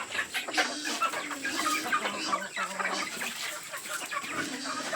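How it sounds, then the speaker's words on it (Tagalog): A backyard flock of eight hens and two roosters clucks and chatters continuously at close range, overlapping calls forming a busy, even din with no talk. "walong inahin. Dalawang lalaki na rooster."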